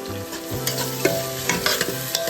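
Sliced onions and slit green chillies sauté in a pan, a bright close sizzle broken by repeated scraping stirs of a spoon and a few soft knocks, with no one speaking.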